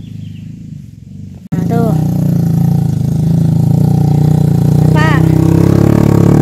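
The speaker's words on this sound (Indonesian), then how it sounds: "Tuh ada suara motor, itu warga yang mau ke kebun." A motorcycle engine starts up abruptly and keeps running with a steady, loud, low drone close by on a mountain trail, while someone talks over it.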